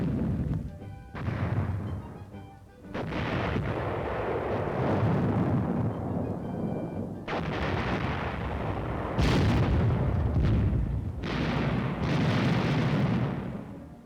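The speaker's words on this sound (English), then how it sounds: "Camp Fuji also provides instruction with artillery and armor." Artillery fires during military training at Camp Fuji in Japan: heavy booming blasts roll out one after another with long rumbling echoes, loud and dominating with no voices.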